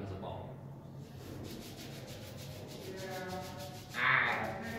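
A knee wrap is rubbed up and down in a continuous soft, close scrubbing sound, steady throughout and swelling louder near the end, with faint voices underneath.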